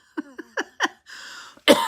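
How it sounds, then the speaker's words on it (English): Four short, close coughs in a quick uneven series, followed by a brief sustained throaty sound and then one louder final cough. "What is with this cough?"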